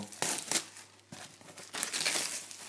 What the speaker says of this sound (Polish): Najpierw o, folię ściągniemy zwykłą z niego.